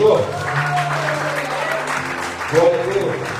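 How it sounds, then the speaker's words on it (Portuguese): Congregation applauding during an evening church worship service, a sustained spread of clapping mixed with a lingering tone and crowd voices in a reverberant room. "aplaude e glorifique o nome do Senhor"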